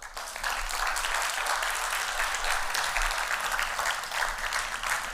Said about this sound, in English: One last applause for Wieger Wamelink.